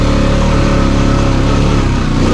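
A 2021 Honda Rubicon ATV on Outlaw 2 tires revs hard as it climbs a hill, with a loud, close, continuous engine drone that swells and strains without a break.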